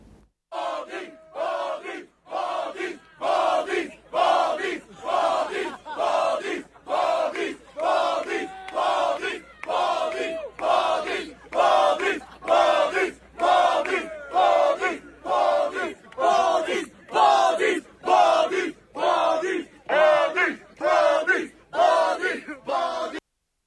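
A large crowd at an outdoor gathering chants in loud, steady rhythmic bursts, about one shout per second, repeating continuously with short gaps between each group call.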